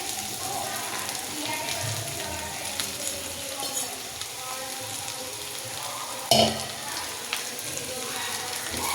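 Poha being mixed with cooked potatoes in a frying pan for Gujarati batata poha: continuous sizzling with scraping stirs and one sharper clack of spoon on pan partway through.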